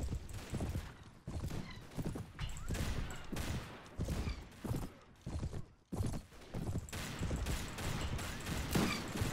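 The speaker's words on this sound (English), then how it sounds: "look at that. It's like a machine gun." Gunfire in the 1860s American mod of Mount and Blade Warband crackles as rapid, uneven shots in a busy shootout, mixed with galloping hooves and battle noise.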